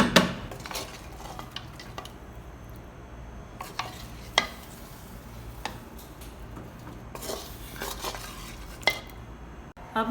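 Fried mutton goes into a pot for Afghani Kabuli pulao and is stirred, with scattered metal spoon scrapes and clanks against the pot over a faint low sizzle.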